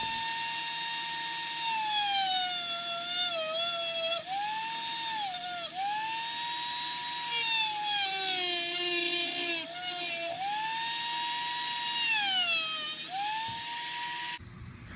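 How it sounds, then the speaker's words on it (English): Dremel rotary tool with a cutting wheel slicing through bamboo stalks, a close high-pitched whine that drops in pitch each time the wheel bites into the cane and rises again between cuts. "I proceeded to use my Dremel with the cutting wheel to get my bamboo pieces cut"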